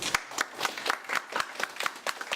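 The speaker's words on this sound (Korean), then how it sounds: "다시 한번 박수" A small audience at the close of a CPR training session claps in a steady, evenly spaced rhythm, quiet and somewhat distant, with no voices over it.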